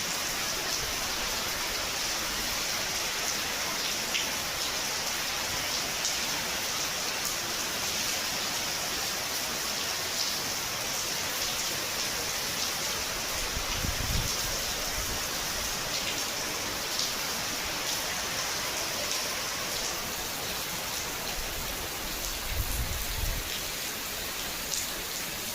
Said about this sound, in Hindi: काफ़ी अच्छी बारिश है।